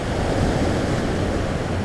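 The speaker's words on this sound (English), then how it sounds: "I feel like I'm at peace with the waves," Ocean waves and surf in Yarmouth, Maine, a constant dense roar of breaking water with wind noise on the microphone, steady and close throughout.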